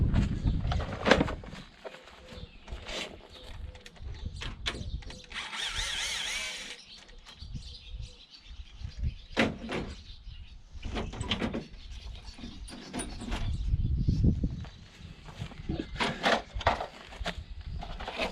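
Tools clink and clatter while a car's front bumper and grille are unscrewed and pulled off, with irregular metallic knocks, scrapes and short rattles close by over a faint workshop background.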